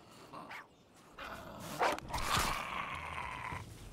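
A dog barks and growls in a survival video game, a few rough, loud bursts over steady outdoor background noise.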